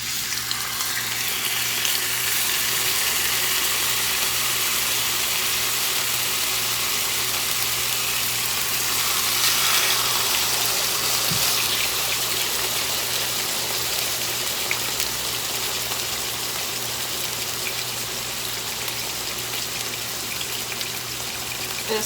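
A pork chop fries in a thin layer of vegetable oil in a skillet, giving a steady, even sizzle and hiss that runs unbroken for the whole stretch with no talking.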